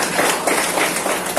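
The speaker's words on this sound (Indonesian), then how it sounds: "Tepuk tangan dulu untuk kita semua." Audience applause at an Indonesian technology university seminar on building leadership spirit: a short, dense burst of steady clapping from a roomful of people, filling the whole moment at even loudness.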